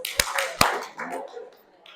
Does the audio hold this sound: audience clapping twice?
yes